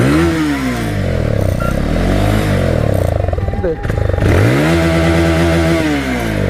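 A motorcycle engine revs loudly up close in bursts, climbing and dropping twice with a brief lull between, while a person speaks over it.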